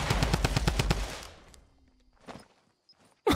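A fast burst of automatic gunfire in Fortnite rattles loudly for about a second, then fades into quieter shuffling and a few faint clicks, ending with a sudden sharp blast.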